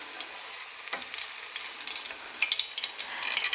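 A vegetable egg foo young patty fries in cooking oil with a soft, crackly hiss and scattered spitting pops, fairly faint and continuous.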